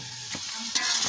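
Chicken being stir-fried in a pan in a village home kitchen, heard as a close, steady sizzle with a couple of sharp stirring scrapes.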